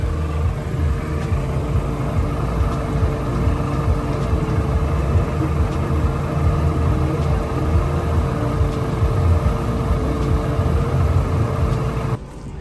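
A car engine idles steadily during a cooling-system test with Blue Devil coolant stop leak, producing a constant low rumbling drone that stays even and close for the whole stretch before briefly dropping off at the end.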